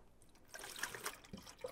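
Tap water runs into a bucket used to mix paper-marbling size. It makes a faint, soft trickle and splash that swells after a quiet start and ends with a small drip.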